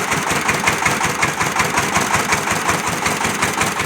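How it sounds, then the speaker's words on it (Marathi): A small farm tractor's engine runs at a steady idle, its rapid even chugging pulse loud and close and continuing without a break or any talk. "ट्रॅक्टर चालू झालेला आहे"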